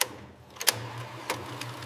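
A restored 1950s Mitchell 35mm film camera runs at 24 frames per second, giving a soft mechanical whir with light clicks and ticks that recur through the short stretch, with no voices.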